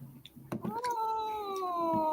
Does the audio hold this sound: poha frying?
no